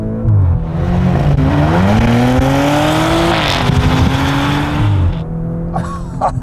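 An Audi RS6-R or RS4-R ABT station wagon in dynamic mode roars loud and close as it accelerates hard, pitch climbing through the gears, then drops away near the end.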